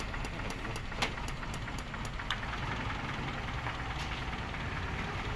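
A steady, close owner-type jeep engine idles with a rough knocking rumble and faint regular ticks, continuous with no voices.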